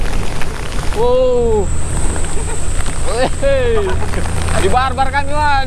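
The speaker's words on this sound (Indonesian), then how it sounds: "Kena tampar-tampar hujan kami ini, weh." Heavy rain and wind buffet passengers riding on the roof of a moving mountain bus, a steady loud wash of noise under bursts of shouting and talk.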